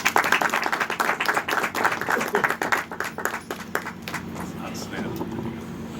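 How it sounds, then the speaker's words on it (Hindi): Loud applause from a crowd at a film festival press conference, steady clapping filling the room for several seconds before tapering slightly, with a voice faintly audible underneath. "इनके लिए एक बार जोरदार ताली।"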